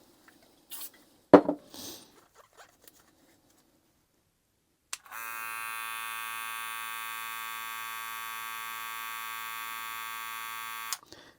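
After a few handling clicks, a BaByliss Boost FX hair clipper switches on and runs with a steady, even motor whine for about six seconds, close and alone, then shuts off.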